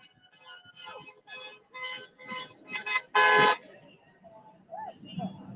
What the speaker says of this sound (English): a lot of the people are kind of just floating by, honking their horns in solidarity